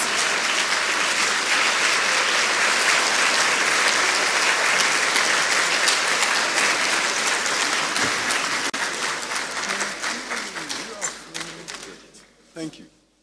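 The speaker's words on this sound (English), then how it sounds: "A round of applause, please." Audience at a formal education event in Ghana applauding the Minister for Education, sustained loud clapping that thins into scattered claps before fading out near the end.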